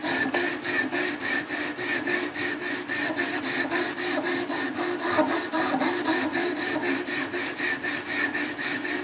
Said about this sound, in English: just put some pressure down, keep your file at 90 degrees